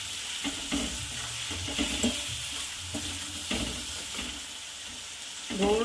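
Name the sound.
red chillies cooking on slow flame for thecha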